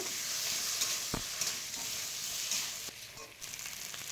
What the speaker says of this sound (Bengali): আদা জিরা বাটা দিয়ে ভালো করে কষিয়ে নেব